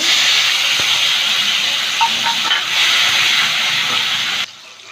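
Sizzling hiss of chopped tomato dropped into hot oil tempered with white cumin, a loud, steady frying roar that holds for several seconds, then abruptly drops to a quieter background.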